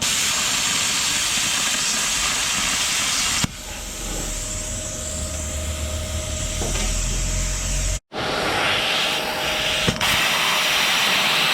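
An ESAB plasma cutter slices through 2 mm sheet metal at 28 amps, giving a steady, loud hiss with a deeper rushing roar. It cuts off abruptly, then the hiss starts up again.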